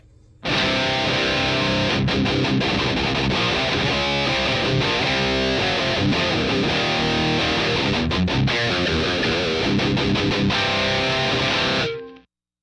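An electric guitar played through combined amp and cab simulations on a Headrush MX5, with a condenser 87 mic model, plays a loud, continuous, heavily distorted riff for about twelve seconds before cutting off abruptly.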